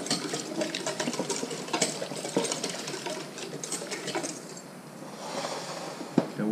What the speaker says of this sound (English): We're gonna pour the sauce on top.